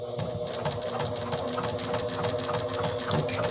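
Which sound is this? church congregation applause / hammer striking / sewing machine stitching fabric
sewing machine stitching fabric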